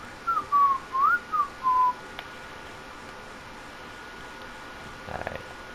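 A character in The Last of Us game whistles a short wavering tune of about five rising and falling notes over roughly two seconds. A quiet room tone follows, then a faint brief clatter.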